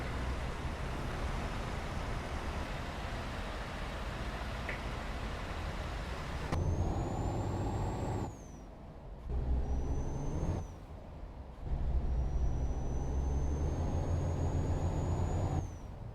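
MAN TGX 680 V8 truck hauling a very long trailer in Euro Truck Simulator 2 releases its handbrake air in several loud hissing bursts over a low idling engine rumble.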